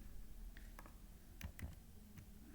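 A few faint, crisp clicks come from a computer keyboard as Shift and Enter are pressed while running Python code, scattered over a low background hum.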